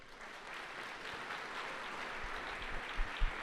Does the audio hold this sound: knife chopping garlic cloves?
no